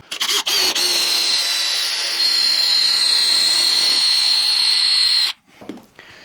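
Power drill boring a hole with a 20 mm bit: a loud, high whining spin that starts after a few short bursts, runs steadily for several seconds, then cuts off abruptly, with some faint clatter afterward.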